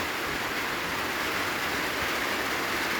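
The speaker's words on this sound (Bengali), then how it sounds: "বৃষ্টি সকাল থেকেই একভাবে হয়ে চলেছে কোনো বন্ধ নেই" Steady heavy rain pours onto a road, a continuous dense hiss with no breaks, even and fairly loud, with no voices.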